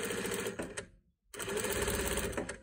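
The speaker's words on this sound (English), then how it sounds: "first you're going to sew it at the bottom end to end to close the mask" A sewing machine stitches across the bottom edge of a fabric face mask, running in a fast, steady close whir, stopping briefly for a moment of silence, then starting up again at full pace.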